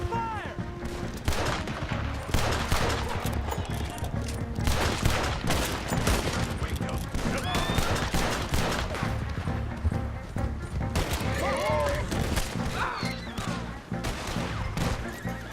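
Gunfire in Red Dead Redemption 2: dense bursts of rifle and pistol shots crackling over a continuous battle din, with horses whinnying and hooves clattering throughout, loud and close with shouting voices mixed in.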